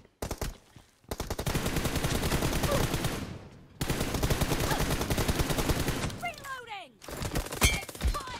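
Video game pistol fire comes in long, dense runs of rapid shots, loud and close, broken by a short pause and followed by scattered effects, with a voice talking over it.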